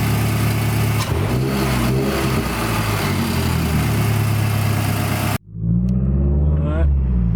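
A Mazdaspeed6 on a test drive after spark plug work accelerates hard, its engine note rising steadily and loud, cutting out abruptly near the end and then building again.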